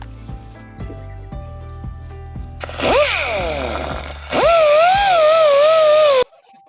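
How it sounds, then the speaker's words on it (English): Low knocking and handling noises give way to a whirring dual action sander on resin with 600 grit, running in two bursts, the second steady and loud, then cutting off. "sanding it up first with the 600 grit on the dual action"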